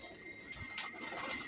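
Pigeons in a breeding setup coo softly in short, low murmurs, fairly close, with a few light chirps and faint background noise.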